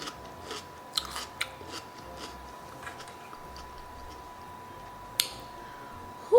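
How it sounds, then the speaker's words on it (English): Someone bites into and chews raw onion, producing a few sharp close crunches followed by quieter, irregular chewing sounds over a steady low background hum. "maybe you need to be crunching on some onions"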